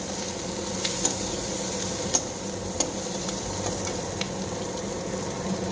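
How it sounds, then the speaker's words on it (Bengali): Onions fry in a pan with a soft, continuous sizzle, and a few sharp clicks come from stirring. The sound is near but fairly faint, with no talking. "পেঁয়াজটা একটু লাল লাল করে ভেজে নেবো"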